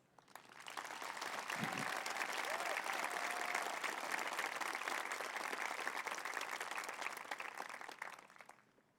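A high school graduation audience at Fort Collins applauds steadily, the clapping swelling in, holding at a moderate distance, then fading out.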